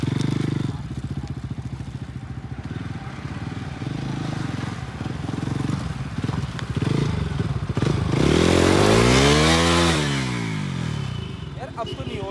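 Bajaj Pulsar RS 200 ABS motorcycle engine revving under throttle, a steady pulsing idle that swells into a loud rising-and-falling rev near the end.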